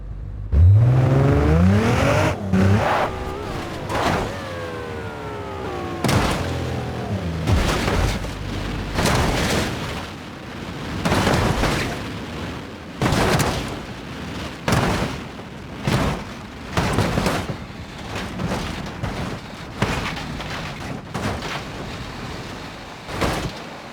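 A Nissan GTR in the BeamNG Drive video game surges forward with rising engine whine, then repeated loud crashes and booms as it is battered by a tornado, impacts coming in a steady rapid series.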